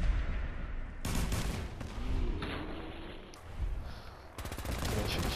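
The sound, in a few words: gunfire from a weapon in Fallout 4 video game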